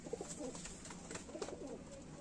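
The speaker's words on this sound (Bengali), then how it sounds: "এটা মেল পায়রা আছে, নর পায়রা" A male Lalduma (Madrasi) pigeon coos softly, with a few low, throaty coo phrases repeating over faint background noise.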